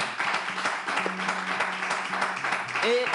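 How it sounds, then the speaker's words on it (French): Audience at an ESSEC school event applauding a group of students, a dense steady patter of clapping at moderate distance, with murmured voices mixed underneath throughout. "On applaudit les étudiants"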